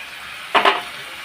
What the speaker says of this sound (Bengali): আবার নেড়ে দেবো